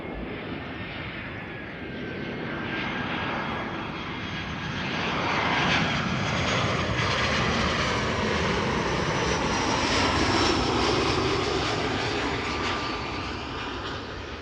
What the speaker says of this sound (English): Next up is EasyJet, arrival from Venice, an A319